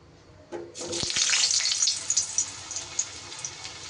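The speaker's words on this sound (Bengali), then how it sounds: "তেল গরম হলে আমি প্রথমে আলুগুলোকে ভেজে নেব" Potatoes drop into hot mustard oil, bursting into a sudden loud sizzle that then settles into a bright, crackling fry with scattered pops. No one speaks.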